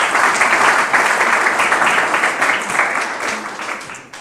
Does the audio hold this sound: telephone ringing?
no